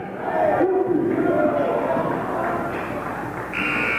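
A loud halftime buzzer sounds near the end of a high school basketball game over a roaring, cheering crowd in an indoor gym.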